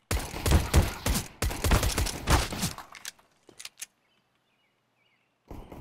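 Shots ring out in a video game shooter: a rapid, loud volley of gunfire for about three seconds, then a few scattered fainter pops before near silence.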